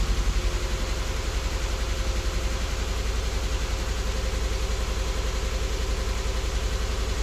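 A high-mileage car engine idles roughly with misfires on cylinders 1 and 3 and an oxygen sensor fault, giving a steady, loud, close rumble with an uneven, shaking pulse throughout.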